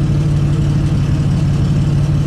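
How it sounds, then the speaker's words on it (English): A rebuilt Ford big-block V8 that had been hard to start idles steadily on its own, a loud, continuous low rumble with no revving. "Well, it's idling on its own now."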